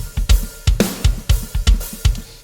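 A djent metal riff cutting between groupings of three and five, with tight, percussive palm-muted chugs landing in an uneven, syncopated pulse. It plays loud and close, and no one talks over it.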